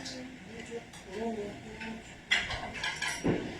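Plates and cutlery clatter at home in sharp clinks, and a loud clatter lands near the end over ongoing conversational speech.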